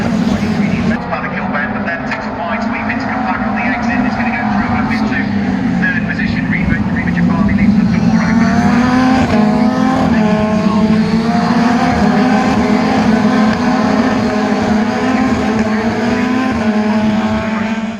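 British GT and F3 race cars at Brands Hatch, engines droning loudly and continuously as cars pass through Paddock Hill Bend, with rising and falling pitch, while a commentator talks over them.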